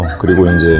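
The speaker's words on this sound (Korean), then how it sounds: "또 닭소리가 들리잖아요." A rooster crows at a rural elementary school in Jinan, Korea, in one brief, loud call while a person speaks over it.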